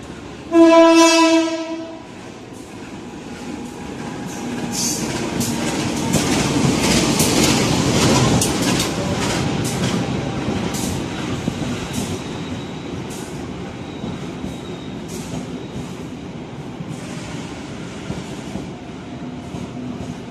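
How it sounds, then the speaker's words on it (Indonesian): A loud train horn blasts at the start, then a locomotive-hauled train passes straight through an Indonesian railway station with rhythmic clattering wheels, staying loud and close for the whole stretch. "dari arah barat melintas langsung kirim rangkaian kereta"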